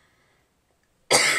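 A single short, harsh cough from someone with a chest cold breaks a near-silent room, close and fairly loud.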